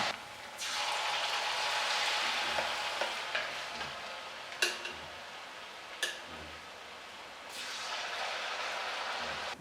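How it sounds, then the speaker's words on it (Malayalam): Steady sizzling of dates frying in hot oil, swelling and easing, with a few sharp clicks and taps of a utensil against the pan. "ഇതാ ബാക്കിയുള്ളതും കൂടി വറുത്തെടുക്കാണ്"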